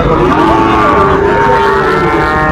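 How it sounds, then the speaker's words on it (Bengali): Sahiwal cattle on a farm in Cumilla give one long, loud, close moo that fills the whole moment, deep and drawn out with a slightly wavering pitch. "আচ্ছা বিলাল ভাই এই যে সুন্দর সুন্দর গরু কালেকশন করছেন"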